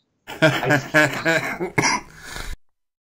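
A single harsh cough, then a throaty follow-up burst, close and loud, with no talking around it.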